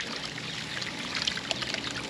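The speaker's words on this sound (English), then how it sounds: "you got the water going too fast, it blows out the side" Water pours steadily through a small homemade gold sluice used for running concentrates, a continuous broadband rush with small splashy trickles near at hand and no talk.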